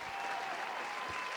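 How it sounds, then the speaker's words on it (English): Brief, faint wash of applause on a talk show, a soft steady crackle of many hands heard from a distance. "Let me just give her a round of applause."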